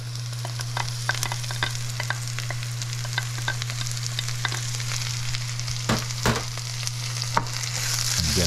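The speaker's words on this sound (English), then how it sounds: "Once the rice is toasted, we'll just add the garlic and the onion." Toasted rice sautés with garlic and onion in a hot pan, making a continuous close sizzle with light crackles and occasional stirring scrapes over a steady low hum.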